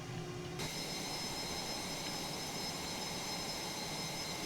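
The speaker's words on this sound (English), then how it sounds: "Let's jump outside and have a listen to the engines." Steady broadband roar of the F-111E Aardvark's jet engines heard from outside the aircraft in Microsoft Flight Simulator, a constant, even drone that holds level throughout.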